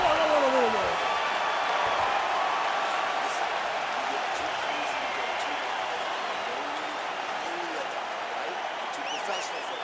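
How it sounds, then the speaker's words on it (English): Video game crowd at a UFC bout on PS5 roars in steady applause after a round ends, a dense, continuous wash of clapping and cheering with faint commentary beneath. "So the crowd voicing its appreciation after that round."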